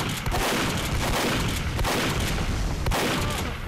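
Sustained video-game gunfire in a team shooter, dense rapid shots and blasts running continuously and loudly throughout with no pauses.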